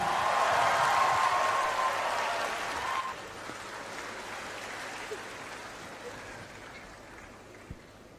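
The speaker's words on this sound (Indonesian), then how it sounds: "berikan tepuk tangan yang meriah untuk Cak Lontong." A concert crowd at the UGM 70th anniversary show applauds comedian Cak Lontong with a loud, dense wash of clapping that gradually fades into softer scattered claps and low hall noise.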